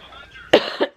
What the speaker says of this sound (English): I have like a dry, raspy cough, but it's not very frequent.